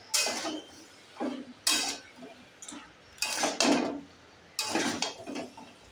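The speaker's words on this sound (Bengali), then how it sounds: "এবার ভালো করে কিছুক্ষণ নাড়িয়ে নেব।" Mixed vegetables with stems being stirred in a pan: four bursts of scraping and clattering strokes against the metal, close by, separated by near-quiet pauses with only a faint background hiss.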